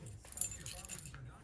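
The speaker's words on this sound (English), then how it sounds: "Just hang tight, let me put the keys in it" Car keys jangle as they are fitted into the ignition of a vehicle, a light metallic clinking close by against a low background rumble, lasting about a second and a half.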